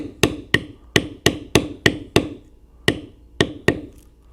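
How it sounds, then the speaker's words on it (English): A metal stamping tool is struck with a mallet on leather to bevel a basket-weave pattern, giving eleven sharp, close taps in a steady rhythm with one short pause, each blow clear and alone. "No matter what direction you're going, you bevel every other one."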